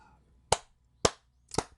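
Three sharp hand claps ring out, close and evenly spaced about half a second apart, each a crisp smack with silence between and no talking.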